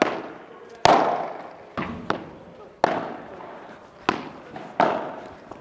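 Padel balls bounce and are struck on court in a sharp, irregular series of about seven crisp pops, each ringing briefly, with players talking between the hits.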